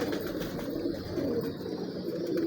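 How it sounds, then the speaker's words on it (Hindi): Pure Prince Kamgar pigeons coo steadily in a loft, soft low murmuring cooing filling the whole stretch, close and continuous with a busy background and no talk. "ये प्योर खालिस प्रिंस का कमगर कबूतर है"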